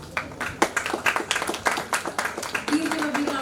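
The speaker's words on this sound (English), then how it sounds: "Please give a big round of applause for her." Scattered clapping from a conference audience at a business literature summit, uneven individual claps with voices speaking over them.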